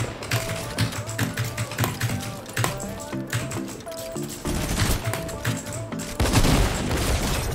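A shotgun in a Spanish-language first-person shooter match fires rapid, loud shots in quick succession, mixed with clicks and impacts, and the volume swells toward the end.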